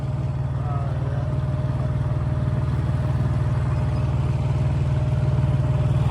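A cheap 7 hp small engine bought from Amazon runs on its first test, a close, steady low chugging throb that holds the same pace throughout.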